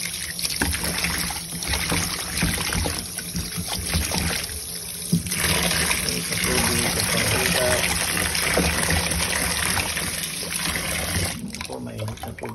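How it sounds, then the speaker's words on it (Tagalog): Hot water runs and splashes over raw chicken that has been salted to remove its odor, a continuous close gushing and trickling with clattering handling throughout. "Saka po natin hugasan ng mainit na tubig."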